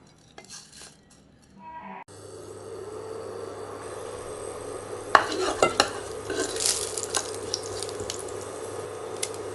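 After a few soft clinks, cinnamon, clove and cumin start sizzling in hot ghee, a steady crackling hiss with scraping and clinking from stirring in the pan.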